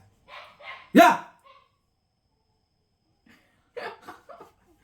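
A single sharp dog bark cuts in loudly between stretches of a person talking indoors, with quiet gaps around it.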